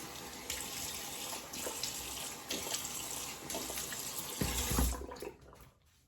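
Running tap water rinsing alum and a Blackland Blackbird open comb razor in a sink, a steady close splashing stream that shifts as things pass under it, then cuts off near the end.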